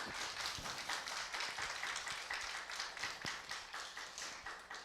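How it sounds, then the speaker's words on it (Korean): Forum audience applauding a lecturer, a faint, fairly sparse patter of individual claps continuing steadily, with a few sharper hand claps standing out. "길게 답변해 주신 우리 김용민 한국외대 정치외교학과 명예교수님께 큰 뜨거운 박수 부탁드립니다."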